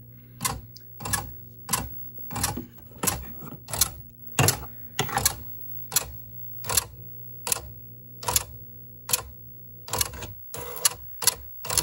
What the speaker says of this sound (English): So you can see how the head bounces back and forth like that. It's because it's doing a carriage return without a line feed.